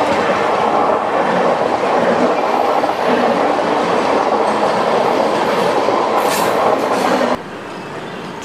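Azad Hind Express 12130 on the Howrah to Pune run, heard from inside an AC 3-tier coach: a loud, steady rolling rumble with rhythmic clickety-clack of the wheels throughout, dropping suddenly quieter near the end.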